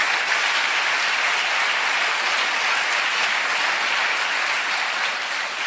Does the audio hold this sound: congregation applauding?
yes